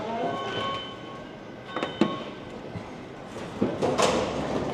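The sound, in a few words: Paris metro train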